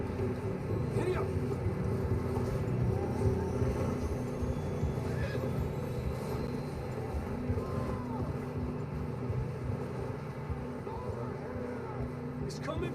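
Horses whinny and neigh in Red Dead Redemption 2 over a steady bed of game ambience while riders push across rough terrain, with voices in the mix.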